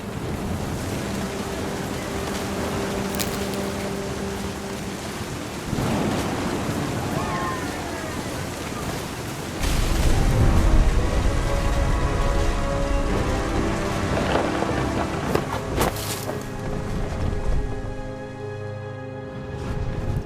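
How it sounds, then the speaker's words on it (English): Steady heavy rain hisses through a stormy scene in What Remains of Edith Finch, with a low rumble of thunder swelling midway and a few sharp cracks, all continuous and fairly loud with no talking. "The thunder sounded much too close and full of angry power"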